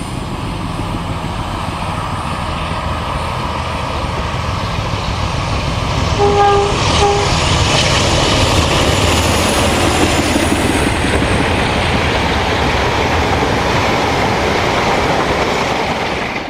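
A Cotswold Rail locomotive hauls a charter train of red coaches on a UK railtour, a loud, steady rumbling roar of engine and rolling wheels that swells slightly midway, with a brief tonal horn-like note, heard close and continuous without speech.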